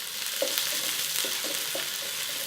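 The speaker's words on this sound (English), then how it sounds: "And fry this up just for a couple minutes." Shallot and garlic fry in a pan, a steady close hiss of sizzling oil with a few soft stirring knocks, brief and without any voices.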